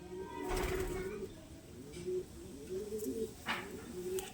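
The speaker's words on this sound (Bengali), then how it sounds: "এটা ফুলসিরা পায়রা ফুলসিরা পায়রা" Soft pigeon chick cooing repeats in low, throaty pulses, with a few brief chirps and background rustle around them.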